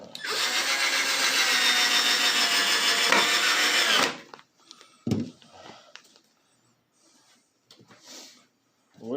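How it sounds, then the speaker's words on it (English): A power drill drives screws into a homemade project on a John Deere, a loud steady whine for about four seconds, then quiet with scattered clunks, brief rattles and a short second burst. "just sinking screws in."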